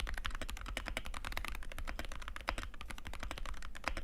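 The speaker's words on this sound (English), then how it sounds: "But at least the keyboard sounds good." Rapid continuous typing on a Wooting 80HE keyboard, close and crisp, with dense clacky keystrokes in a steady stream and no talking.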